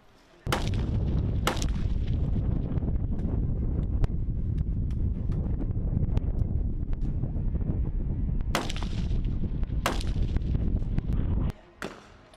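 Military rifles fire blanks through blank firing adapters, with a loud sustained roar of gunfire and wind buffeting and several sharp distinct cracks standing out, ending abruptly near the close.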